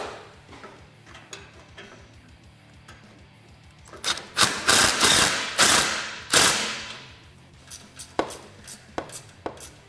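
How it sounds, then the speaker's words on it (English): A ratchet tightens the mounting bolts of a cargo system on a Polaris RZR XP 1000. Close, quick bursts of clicking follow a quiet start, then a few scattered clicks. "we're just going to go ahead and fully tighten all the hardware and make sure everything's good and tight"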